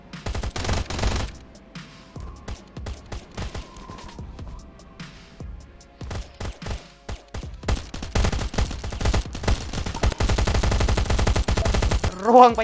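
Rapid bursts of gunfire in the video game Last Island of Survival, automatic fire and scattered single shots, loud and dense, building to continuous shooting near the end.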